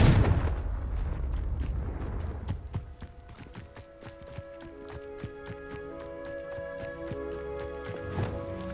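Blasting spell explosions in the video game Hogwarts Legacy, a burst of sharp booming cracks at the start, then repeated impacts over a bed of game music.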